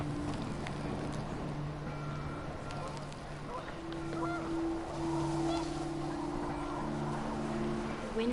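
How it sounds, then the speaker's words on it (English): Panicked geese honking in What Remains of Edith Finch, scattered nasal honks under gusting wind and a steady low drone, with a narrator speaking over most of it. "The wind picked up, and panicked geese appeared and quickly went."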